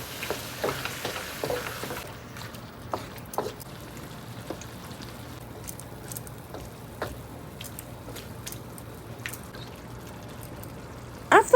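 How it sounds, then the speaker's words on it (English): Ground beef frying and browning in a pan, a soft steady sizzle with scattered crackles and occasional scraping of a utensil, a bit busier at the start, no talking. "Cook the ground beef for 8 to 10 minutes"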